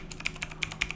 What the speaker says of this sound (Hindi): मैंने यहाँ पे टाइप करा